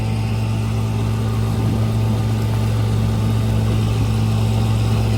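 An Evinrude 5.5 outboard boat motor runs steadily on a lake, a constant droning hum with a strong low tone that holds unchanged throughout, loud and close with no voices.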